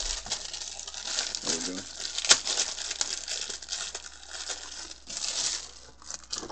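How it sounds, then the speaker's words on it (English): Super Famicom controller pulled out of a crinkly plastic bag, with close, rustling crinkles and one sharp crackle, and someone speaking briefly. "Like this Super Famicom controller. Let's pull that out the plastic."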